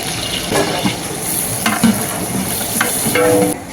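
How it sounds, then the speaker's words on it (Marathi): Chopped onion going into hot oil for Solapur-style dal-chawal, a steady frying sizzle with scattered stirring scrapes and small crackles throughout, fairly loud and close with no talking. "तेल आता चांगलं गरम झालेलं आहे त्याच्यामध्ये कांदा घालून घेत आहे"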